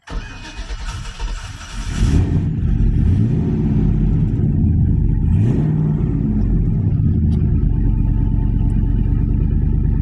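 A big engine in a 1996 Chevrolet C1500 hotrod pickup truck cranks and catches, then settles into a loud, deep, rumbling idle with a couple of quick throttle blips.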